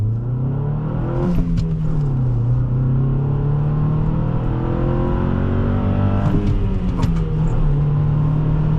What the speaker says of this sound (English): But let's do one more 0 to 60 and we will wrap that up.